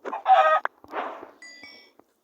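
Short chicken clucks and squawks in quick bursts in Minecraft, followed by a brief rising crow-like call, close and clear with no talking.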